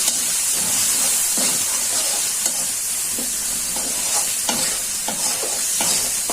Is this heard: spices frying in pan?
yes